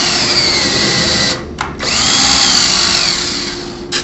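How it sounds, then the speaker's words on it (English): A power drill countersinks a screw hole in a frame with a loud, close, steady whine that stops briefly after about a second and a half, then runs again until a short release near the end. "Or you can countersink it"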